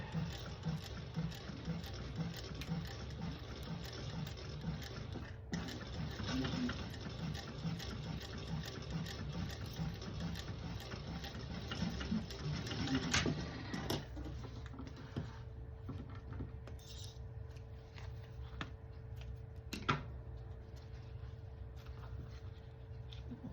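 Sewing machine stitching around the corner of a fabric candy bag, a rapid steady mechanical chatter for about fourteen seconds, then stopping and giving way to quieter handling sounds, close and alone.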